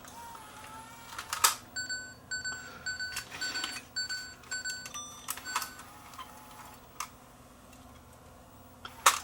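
A faulty Sony DCR-TRV110 camcorder tape mechanism gives off quiet irregular clicks, ticks and short whirring chirps, some repeating in small bursts and ending with a louder snap, against a low steady hum.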